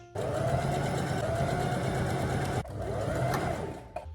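A sewing machine runs steadily, stitching bias tape around a fabric pouch, with a loud continuous motor whir that halts briefly partway through and then resumes before stopping.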